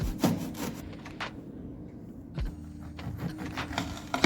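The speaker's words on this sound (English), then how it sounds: "I took 4 to 5 fresh oranges and grated their peel to get the zest." Fresh orange peel scraped against a grater to make zest, a quiet series of rasping strokes in short bursts with brief pauses between them.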